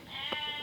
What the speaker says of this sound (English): You can hear my sheep in the background.